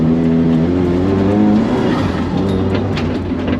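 A rally car engine revs hard and close on a first drive, a loud continuous snarl with rising and falling pitch as it accelerates, filling the whole few seconds without any speech.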